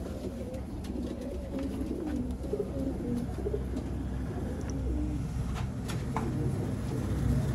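Kasuri kamgar pigeons, a breeding pair, cooing in low repeated throaty phrases close by, steady over a dense background of other birds and ambient murmur.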